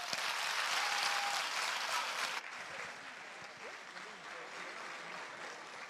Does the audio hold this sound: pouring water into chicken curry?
no